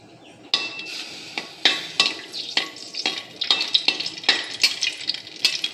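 Two dry red chillies fry in a pan, with a steady crackling sizzle broken by repeated clinks and scrapes of stirring, close and fairly loud, with no talk.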